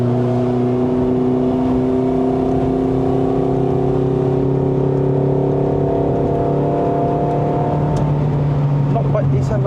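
A Toyota Vios 1.5J NCP150 with a 4-speed automatic climbs the mountain road up to Genting in Malaysia. Its engine drones loud and steady from inside the cabin, the pitch slowly rising as it pulls uphill.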